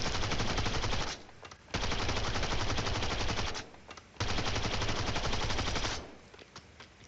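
CBRS-3 full-auto SMG in Black Ops 7 firing in long sustained bursts, three loud rattling strings separated by brief pauses, close and alone with no talk.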